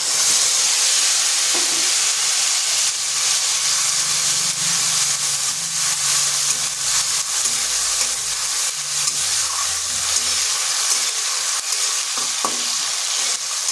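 Ginger-tomato paste hitting hot oil in a pan, a loud, close, continuous sizzle and spitting hiss with occasional stirring, holding steady throughout without talk.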